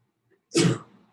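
A single short, sharp sneeze bursts out at moderate volume in a quiet room, with a brief breathy tail afterward.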